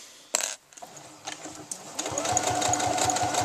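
Sewing machine stitching a lining to the front bodice of a garment, starting after a few short clatters and then running in a steady, close rhythmic whir with regular needle pulses.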